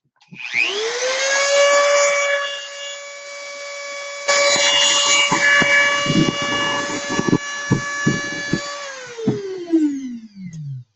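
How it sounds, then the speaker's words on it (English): A loud power drill whines up to speed, runs steadily with grinding and rattling as it bites into material, then winds down. "So let's get drilling."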